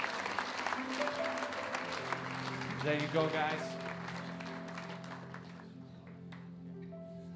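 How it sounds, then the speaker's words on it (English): A church congregation applauds steadily through a Sunday service, the clapping broad and sustained while someone speaks over it, then thinning out toward the end. "Let's give these guys a round of applause."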